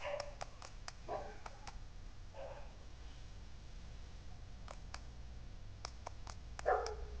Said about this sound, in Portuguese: Que cachorro.